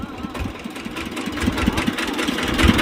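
A vehicle engine idles close by with a low, knocking rumble and rhythmic pulses that swell slightly louder toward the end, with no talk over it.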